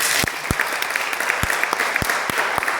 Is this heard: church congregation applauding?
yes